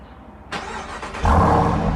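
A 2018 Jeep Trackhawk engine starting after being wrecked and rebuilt: a brief cranking burst, then it catches and settles into a louder, steady rumbling idle, close and alone.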